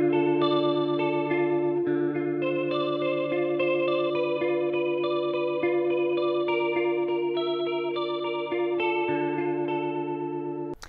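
Electric guitar through a Walrus Polychrome Flanger set fast with deep, wide sweep, sustained chords and picked notes swirling with a strong jet-like modulation, played alone at moderate volume.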